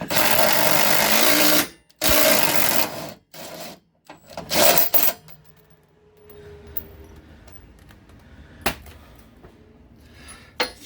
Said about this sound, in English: chasing threads, chasing threads